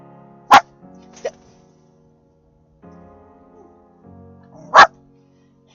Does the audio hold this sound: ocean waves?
no